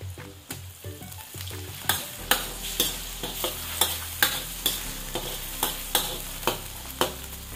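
Chicken sizzles steadily in hot oil, reused from frying chicken liver, while a utensil stirs it. Sharp scraping strokes land about every half second, close and loud, with no talking.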